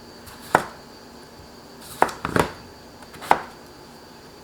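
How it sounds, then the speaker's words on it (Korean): A kitchen knife chops potatoes on a board with a few sharp, separate thuds: one, then a quick cluster of two or three, then another, close and clear against a quiet background. "감자 이렇게 썰어주세요"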